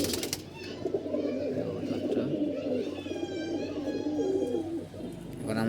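Domestic pigeons, some with a cold, cooing in their loft on a sunny day: soft, low repeated coos close by and fairly steady, with quiet talk now and then and a few clattering knocks at the start and end.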